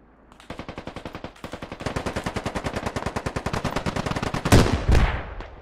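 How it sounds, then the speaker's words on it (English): Sustained machine gun fire in the military shooter game Squad rattles out as a long, rapid, evenly spaced string of loud shots, ending in a couple of heavier blasts, with no talking. "Pretty sure it's a machine gun."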